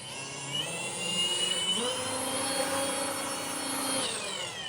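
Car polisher running at 2000 RPM while buffing automotive paint with a second-stage pad, a steady whining motor drone whose pitch shifts slightly as pressure changes, close and continuous.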